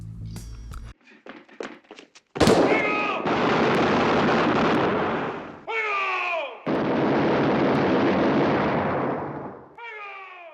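Gunfire from the final shootout of Butch Cassidy and the Sundance Kid, a loud volley of booming shots and sustained rumbling blasts with ringing whistles between bursts, following a few scattered sharp cracks.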